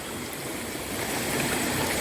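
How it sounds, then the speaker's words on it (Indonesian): Water rushes over a rocky rainforest stream at Long Pasia in North Borneo as it is crossed, a dense continuous burbling hiss, close and steady with no talk. "Menyeberangi anak sungai yang berbatu ya"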